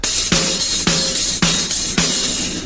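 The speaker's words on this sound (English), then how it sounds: "Like every other hi-hat gets a snare" Drum kit groove with steady eighth-note hi-hat and a snare on every other hat, the upbeats, playing alone with no talk; five strong snare hits land in an even rhythm, close and loud.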